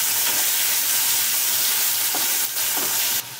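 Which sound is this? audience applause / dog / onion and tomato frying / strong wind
onion and tomato frying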